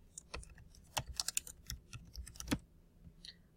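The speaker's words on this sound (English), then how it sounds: "I type my comment" Someone is typing on a computer keyboard, producing quiet, irregular clusters of crisp key clicks with brief pauses between bursts, close and alone.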